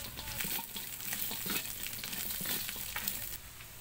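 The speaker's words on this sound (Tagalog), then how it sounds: "Nagpainit na tayo 5-9 na mantika. Ilagay na natin ito 5-9." Chicken sisig fries in hot oil in a pan, giving a steady, close sizzle and crackle with some stirring, continuous throughout and slightly softer at the end.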